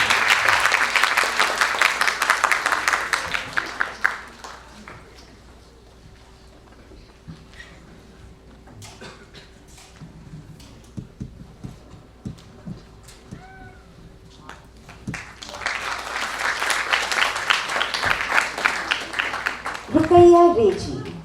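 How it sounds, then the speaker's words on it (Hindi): Audience at a national theatre festival bursts into loud, sustained applause to welcome a Kolkata theatre artist onto the stage, fades to a quieter stretch, then swells into a second long round of clapping. "जोरदार तालियों से स्वागत कीजिएगा।"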